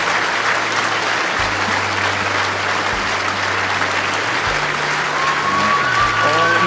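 A crowd at the 2016 World Bowls Championship final gives a loud, sustained standing ovation for the new world champion, under a commentator's steady voice.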